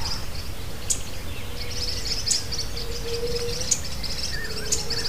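Birds singing in the early morning outdoors amid green vegetation, repeated short bright chirps and tweets at moderate distance over a soft background hiss, with faint insect buzzing.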